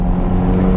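A 2023 Chevrolet Corvette with base suspension and all-season tires drives a winding mountain road, its engine a loud, steady low drone with road noise for under a second, with no voices.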